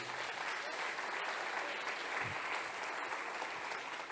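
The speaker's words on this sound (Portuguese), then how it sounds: "Dá para aplaudir ele aqui, dá?" Church audience applauding during a Portuguese sermon, a steady, fairly distant wash of many hands clapping that fills the whole stretch without voices on top.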